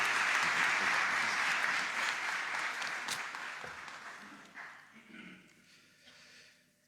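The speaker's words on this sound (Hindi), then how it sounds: "ताली बजाकर खुश आमदीद कहना कोई बुरी बात नहीं, ताली बजा सकते हैं" Applause from a church congregation at an ecumenical Unity Week service, loud at first and gradually thinning and fading out, with a few scattered claps and small noises as it dies away.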